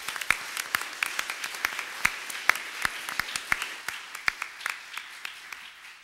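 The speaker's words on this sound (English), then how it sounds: "I think we owe him a huge round of applause." A conference audience breaks into sparse applause after a welcome, with scattered individual claps from a small crowd rather than a dense roar. The claps are fairly distant and moderate in level, with no talking over them.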